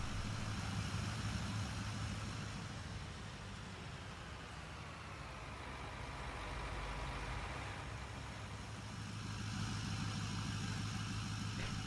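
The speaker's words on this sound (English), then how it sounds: "Hear the Massey running there. It's a nice sound with that Perkins engine." A Massey Ferguson 8070 tractor with a Perkins diesel engine runs steadily, giving a continuous low rumble heard nearby without speech.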